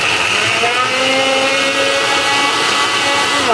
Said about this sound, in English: I will turn on the blender for exactly 5 seconds